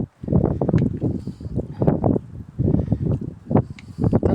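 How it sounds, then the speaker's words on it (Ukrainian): Strong gusty wind buffets the microphone in loud, irregular rumbling bursts, with no voices present. "зірвався вітер"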